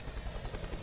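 A Bell 212 Twin Huey helicopter of the Greek Navy, an anti-submarine version, runs in Flight Simulator X near Montreal. Its rotors give a loud, continuous thumping throb with dense engine noise, heard alone.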